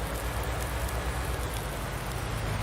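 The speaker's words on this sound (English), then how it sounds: "Oh, it just started raining." Steady rain hisses across a farm in Farming Simulator 19, a dense, even wash of drops with a low rumble beneath, constant and close throughout with no voices.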